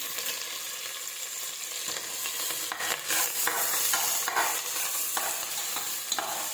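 Spices sautéing in coconut oil for ghee rice, a steady close sizzle and fry with a spoon stirring and scraping through the pan, no voices over it.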